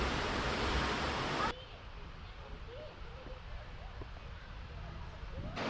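Brandywine Falls, where a glacier-fed creek drops about 200 feet along the Sea to Sky corridor in British Columbia, gives a loud rushing roar at first, then a softer, steady distant hiss with a few faint chirps over it.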